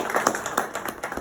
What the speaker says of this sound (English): So I guess another round of applause to them.